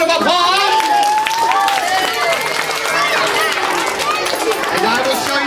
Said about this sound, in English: Everybody give Judah a nice round of applause